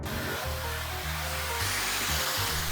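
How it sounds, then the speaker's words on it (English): A vacuum cleaner runs steadily around a clothes dryer while cleaning up lint, a loud continuous roar with a low motor hum that shifts slightly as the nozzle moves. "now let's clean all around the unit with a vacuum cleaner"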